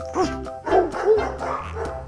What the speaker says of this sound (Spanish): Los perros ladran, aúllan, gruñen, gimen y lloran.